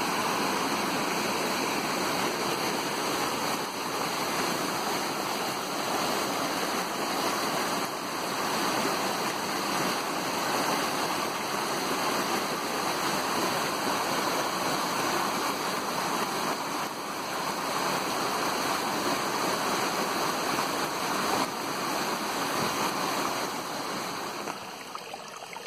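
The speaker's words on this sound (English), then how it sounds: "Came across a little waterfall," A small waterfall on a mountain trail at Mount Carleton, New Brunswick, rushes in a steady, dense roar of falling water, close and constant throughout with no talking.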